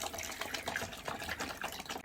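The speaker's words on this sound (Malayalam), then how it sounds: "3 ലിറ്റർ വെള്ളം ചേർത്ത് കൊടുക്കണം" Water splashes and gurgles as about three litres are poured into a homemade dishwashing liquid mixture, a close, fluttering stream running continuously before cutting off at the very end.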